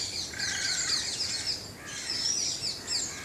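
Several small birds chirp and twitter outdoors, quick high calls overlapping against a quiet background.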